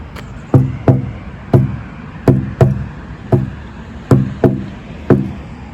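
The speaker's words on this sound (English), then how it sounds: "I will give the red one a little thump for you to hear its timbre." A red earth drum is thumped outdoors with a hand, producing nine separate resonant hollow thuds. Several come in quick pairs, all are close and moderately loud, and there is no talk.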